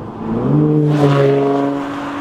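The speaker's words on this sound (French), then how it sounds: "Le V12 Aston Martin, il est toujours fabuleux, avec un son à réveiller les morts" An Aston Martin Vanquish Volante V12 engine revs up, its deep harmonic growl rising in pitch and swelling loudly before easing back, heard close with no talking.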